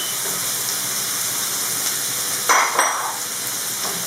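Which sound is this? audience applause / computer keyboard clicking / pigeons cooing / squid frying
squid frying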